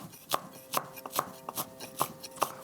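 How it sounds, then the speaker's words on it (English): A knife chops a chili into chunky slices on a board, giving about seven crisp, evenly spaced cuts close up, with no talking. "I'm going to again cut this quite chunky."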